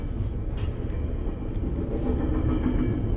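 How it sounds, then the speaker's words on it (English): A deep, steady rumble of a video game train rolling past, loud and continuous, with faint clanks on top and no talking. "That's the train."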